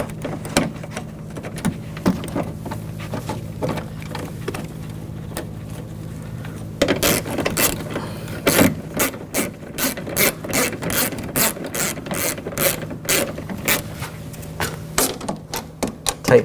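A hand ratchet clicks as bolts on a 2000-2006 BMW X5 front window regulator are tightened, starting with a faint background hum, then bursts of rapid, close metallic clicking in repeated strokes with brief pauses.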